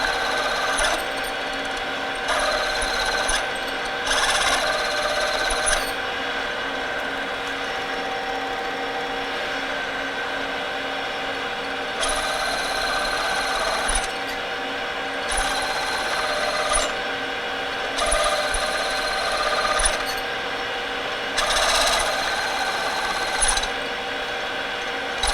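A metal lathe cuts metal with a steady whine, while short bursts of harsher, louder cutting noise recur as the tool feeds in and backs out to break chips.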